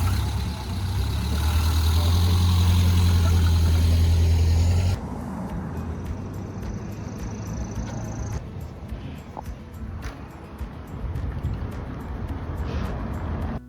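Vintage cars on Route 66 rumble with a loud low engine drone that cuts off abruptly about a third of the way through, leaving quieter passing traffic and outdoor noise.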